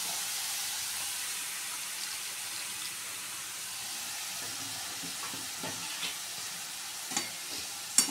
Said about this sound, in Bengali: আমি একটু নাড়াচাড়া করি পোস্তটা দিয়ে